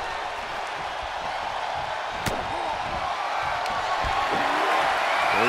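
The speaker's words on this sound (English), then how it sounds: "The sound of this crowd is deafening, and he's asking for more." Roaring wrestling arena crowd in a video game, a steady dense wall of cheering that swells slightly toward the end, with a sharp slam-like impact near the middle and faint commentary underneath.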